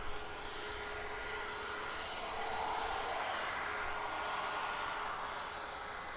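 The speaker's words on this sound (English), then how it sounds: "we're looking at a Wizz Air arrival. It's an A321neo." A Wizz Air Airbus A321neo arriving at London Luton Airport gives a steady, broad jet roar that swells slightly midway, heard from a moderate distance with no talk.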